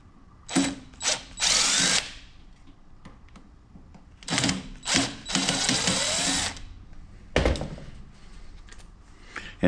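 A driver backs out screws holding fan blades during a shop teardown, giving close mechanical whirring bursts and ratcheting clicks in several separated runs with quiet gaps.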